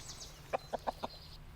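A chicken clucks in a zombie short film, four short clucks in quick succession at moderate distance over a quiet background hiss.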